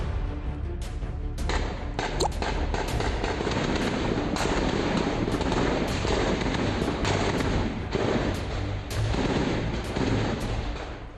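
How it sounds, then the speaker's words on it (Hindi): Security forces setting off explosions to blow up a militants' hideout in Handwara after a long encounter, a dense rolling barrage of sharp blasts and cracks, loud and continuous, with repeated bursts throughout. "सुरक्षा बलों ने हंदवाड़ा में आतंकियों के ठिकाने को विस्फोट करके उड़ा दिया।"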